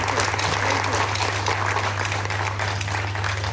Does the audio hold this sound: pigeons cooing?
no